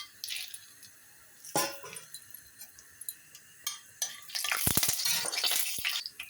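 Whole spices hit hot mustard oil in a pan and give faint, scattered sizzles and crackles, with a louder spitting burst toward the end and light stirring clicks.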